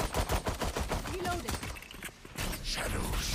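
Rapid gunfire from a Valorant match, dense bursts of shots close and loud, with a short pause before more shooting resumes.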